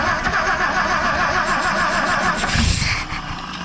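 A 1959 Edsel Ranger engine revving under throttle, a loud, rough mid-pitched roar held steady, then rising in a short surge near the end before dropping back.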